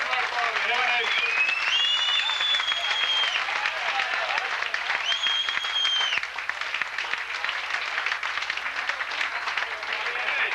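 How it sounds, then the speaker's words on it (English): A 1984 comedy club audience at the Comedy Cottage gives sustained, close, crackling applause for a comedian, with a couple of whistles rising above the clapping early on. "Another round of applause, Mr. Mark Allbee."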